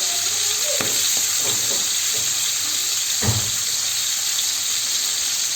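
Lamb or beef liver skewers sizzle steadily in hot oil, a continuous bright hiss with a few soft clinks and taps as they are turned over partway through.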